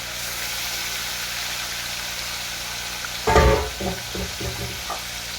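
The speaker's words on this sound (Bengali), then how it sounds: "মাছের মাথা একদম ভাজা হয়ে গেছে" Fish head frying in hot oil in a pan gives a steady close sizzle, broken midway by a sharp clatter and a few softer scraping stirs.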